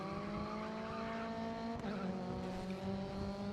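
Touring cars racing together on a track in the video game GRID Autosport, engines droning with steady harmonic whine, tire noise underneath, continuous and fairly loud throughout.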